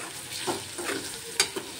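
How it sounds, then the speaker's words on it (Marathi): Chopped onion for kanda poha is stirred and lightly sautéed in a pan, giving a soft sizzle with a few scraping stirs and one sharper clink of the spoon near the end. "कांदा सुद्धा छान असा परतवून घ्यायचा आहे"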